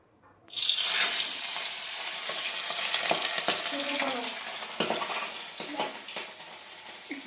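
Pabda fish frying in hot oil, a loud steady sizzle that bursts in abruptly and keeps crackling with sputtering pops close by, with no talk.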